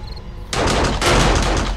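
An automatic turret opens fire in the zombie survival game 7 Days to Die during a co-op base defense: a loud, sustained burst of rapid gunfire starts abruptly after a quiet moment and continues to the end.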